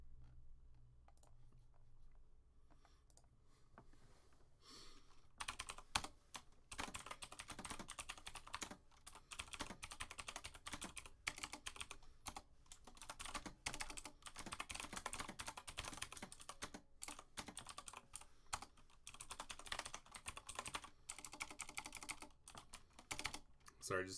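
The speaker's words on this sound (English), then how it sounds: "just typing out" Steady computer keyboard typing runs almost continuously, close and fairly loud, with dense clattering keystrokes and a quieter stretch at the start before the rapid typing picks up.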